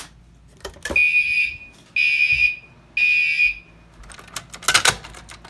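A fire alarm panel drives its alarm through three loud, close electronic tone blasts of about half a second each, evenly spaced a second apart, followed by clicking and rattling.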